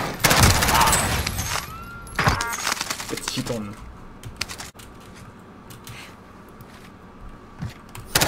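Rapid bursts of MP5 submachine-gun fire in a shooter game, crackling in a quick volley up front then thinning to scattered shots, mixed with keyboard clatter and someone talking.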